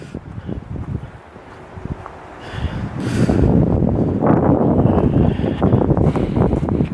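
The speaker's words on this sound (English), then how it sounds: "At least that wind's getting a little better." Gusty wind roars across an outdoor forest trail at Jakes Branch in New Jersey, buffeting the microphone with a low, rumbling rush that grows steadily stronger and stays loud and continuous.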